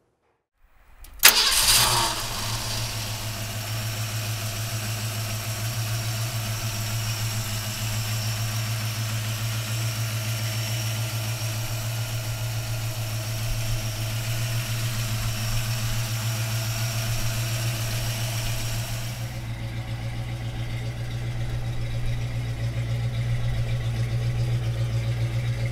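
A 1966 Ford Mustang with a 302 V8 cranks and fires within a second, then settles into a steady, close, fairly loud idle that runs on evenly with no talking.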